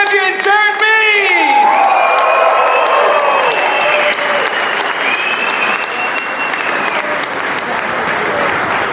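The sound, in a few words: audience round of applause and cheering for flat track champion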